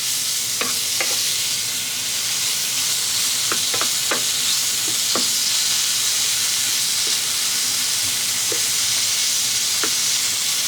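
Meat sizzles steadily in a frying pan still coated with leftover roux from Japanese curry, a continuous close frying hiss broken by a few sharp pops and crackles, with no talking.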